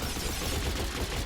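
A rapid torrent of multi-shot gunfire from a video game, dense overlapping bursts with no gaps, loud and continuous throughout.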